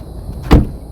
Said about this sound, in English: let's listen to the sound of the door.